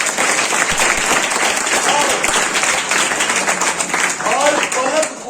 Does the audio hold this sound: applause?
yes